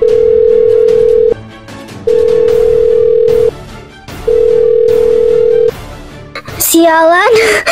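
A phone call rings out in a Sakura School Simulator game scene, with three loud, long, even ringback beeps separated by short pauses before an angry voice breaks in at the end.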